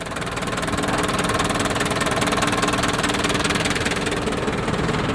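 A 1979 Toyota Land Cruiser 40 series with a 4-cylinder diesel idles steadily up close, a loud, even clattering rumble that holds without a break for the whole stretch.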